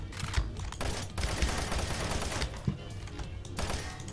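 Rapid gunfire in the video game Garry's Mod, dense bursts of repeated shots like a machine gun firing nearly continuously at close range, with brief gaps between volleys.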